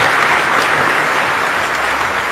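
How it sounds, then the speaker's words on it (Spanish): Steady, dense applause from a church congregation fills the whole moment, loud and continuous with no voices over it. "aplausos, gracias hermano."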